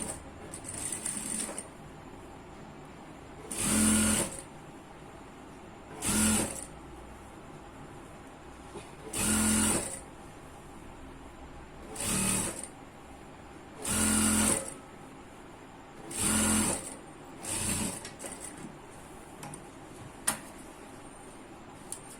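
A sewing machine stitches the bottom hem of an ankle-length pant in about eight short whirring bursts, each two to three seconds long, separated by quiet pauses.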